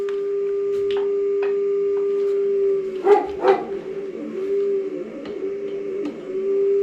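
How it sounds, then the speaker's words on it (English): An angle grinder fitted with a cut-off wheel, cutting a slit into a bolt, gives a steady, high motor whine throughout, with a few brief rougher bursts in the middle as the wheel bites into the metal. "I'm going to cut a slit into it with the grinder. Simply got a cut off wheel on the grinder right here."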